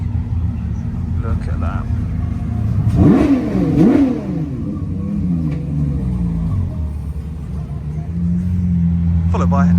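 A Ferrari Daytona SP3 hypercar drives past with a rising, revving engine burst in the middle of the clip over a low rumble of other cars, and people talk nearby.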